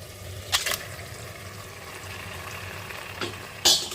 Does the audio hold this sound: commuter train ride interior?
no